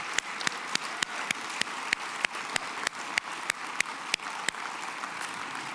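Audience applause at a live talk event on stage, heard as sparse, separate hand claps in an irregular steady rhythm over a soft room wash, with no voices.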